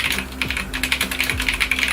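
Rapid typing on a Logitech mechanical gaming keyboard with GX switches, a close, loud, busy run of keystroke clicks and clacks in an uneven rhythm, with no voices.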